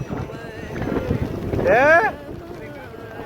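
Wind blows during heavy monsoon rain, a rough, steady buffeting roar close to the microphone. A voice speaks, and a brief rising whistle-like tone cuts through near the middle.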